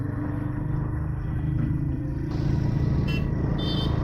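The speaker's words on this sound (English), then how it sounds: "2000 rpm second gear, 20 kph, and the bike is struggling" A Royal Enfield Guerrilla 450 motorcycle engine rumbles low and steady up close, straining slightly in second gear around 2000 rpm as it builds revs, with wind and road noise rising toward the end.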